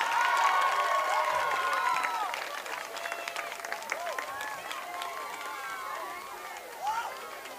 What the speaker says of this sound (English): Get a big round of applause for the SVU Marching Knights.